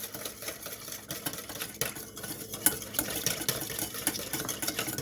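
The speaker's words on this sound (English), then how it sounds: "And then I'm just going to whisk it again." Garlic vinaigrette whisked in a bowl, a continuous close scraping and clattering with quick, irregular rhythm and no pauses.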